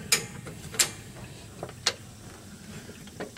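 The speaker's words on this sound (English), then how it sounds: "Just putting these pins back in." Metal pins being fitted back into a Craftsman YS4500 riding mower deck, heard as a few sharp, sparse clicks and clinks over faint background noise.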